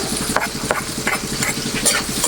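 Garlic frying in butter in a pan while cooking squid adobo, a close steady sizzle and crackle with a rapid bubbling rhythm and light spoon taps.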